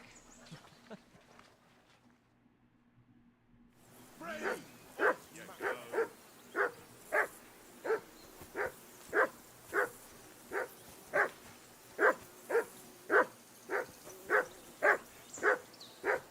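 A dog in a video game barks steadily in evenly spaced, sharp yaps that start after a few quiet seconds and continue at a regular rhythm, moderately near, over faint background ambience.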